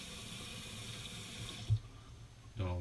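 Water runs steadily from a bathroom tap while a badger shaving brush is wetted for a wet shave, a faint continuous splash ending with a few soft knocks and a brief change in flow.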